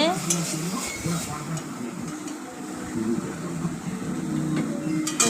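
A spatula scrapes a kadai of cooked batter onto a plate, with continuous close metallic scraping and shuffling under a low background hum, and a few sharper clinks along the way.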